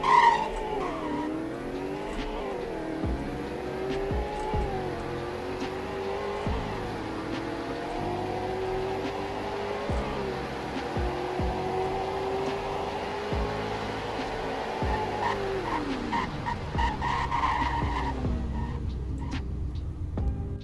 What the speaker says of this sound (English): Here's the speed test for both trims.